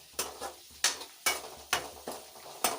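Garlic, ginger, green chili and curry leaves fry in a pan for mango pickle while a spoon stirs them, giving regular scraping strokes over a soft, steady sizzle.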